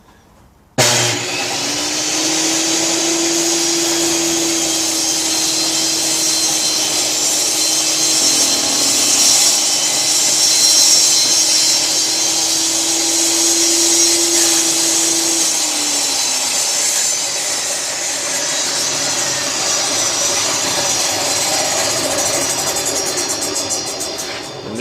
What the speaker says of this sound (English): we're going to cut the end that we've taken the piece of plastic